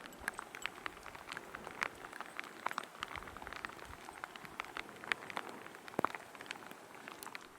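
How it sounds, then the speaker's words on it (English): Rain falls steadily on a muddy Hells Canyon trail, a soft, even patter with scattered sharper drips close by, faint and without voices. "By the time we make it halfway, the drizzling rain turns into full-fledged rain."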